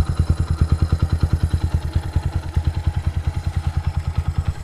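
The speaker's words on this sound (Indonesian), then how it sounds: "Tuh, ini knalpot off racingnya." A Kawasaki W175 SE idles through an aftermarket racing exhaust, a close, loud, rapid and steady string of low thumping pulses that carries on unbroken with no talking.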